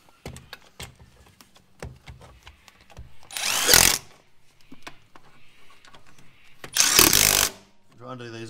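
A power tool tightens bolts on a wingless sprint car's quick change differential in two loud whirring bursts, separated by clicks and handling knocks, with a voice speaking in between.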